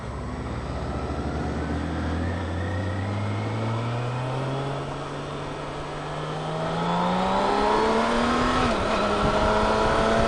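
A vehicle accelerates hard on an interstate highway toward 75 to 80 miles an hour, its engine note climbing steadily in pitch with a shift partway through, loud and close over rushing wind noise.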